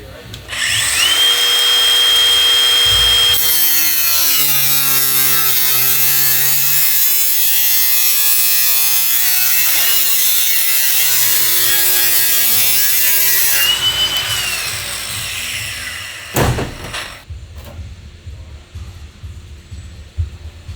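A loud power tool cuts through a van roof, a sustained high whine with a steady pitch for about ten seconds, then trailing off into clatter and handling noise.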